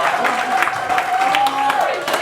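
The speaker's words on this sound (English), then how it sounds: "Let's give them another round of applause." Guests at a Haitian wedding reception applaud, a dense, continuous wash of clapping from a crowd, with faint cheers and a held tone running underneath.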